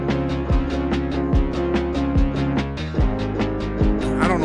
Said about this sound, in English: I have this like electronic bass line with it.